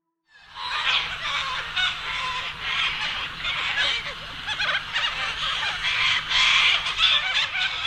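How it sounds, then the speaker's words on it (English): A flock of cockatoos chatters and screeches loudly and continuously in the morning, a dense, raucous wash of overlapping harsh calls close by. "I wake to the incessant chattering of a caucus of cockatoos."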